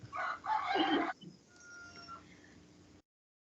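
A rooster crows once, loud and close, for about a second, then fainter faint tones and low background noise follow; no one speaks.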